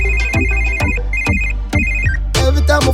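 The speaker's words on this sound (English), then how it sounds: "every time my phone ring" A phone ringtone plays inside a dancehall-style song, its repeating bright electronic ring pattern sounding several times over a heavy bass beat before the music swells fuller at the end; no speech.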